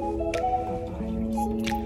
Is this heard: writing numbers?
no